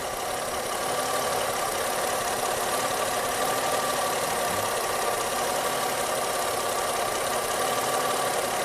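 A Fusion engine idles roughly with a misfire, a steady, close, unbroken drone with an uneven knocking undertone through the whole stretch and no talking.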